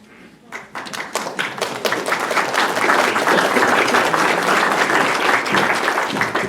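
Audience applause breaks out at a Rocky Mount city council meeting during a Hispanic Heritage Month award presentation, rising quickly into steady, dense clapping that fills the room and holds for several seconds.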